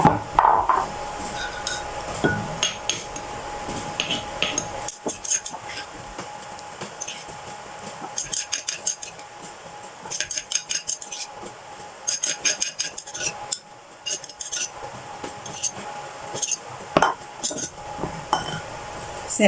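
Dipping sauce for boiled pork intestines gets scooped into a bowl, with repeated clinking of a metal spoon against dishes, bursts of rapid scraping and tapping, close and fairly quiet, and no talk.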